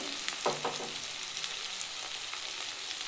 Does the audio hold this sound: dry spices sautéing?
yes